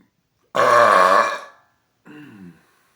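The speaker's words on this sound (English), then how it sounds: "Let's see how the first burp is since my hiatus." A loud, drawn-out burp lasting about a second, then a short pause and a second, shorter and quieter burp, both heard alone in a silent room.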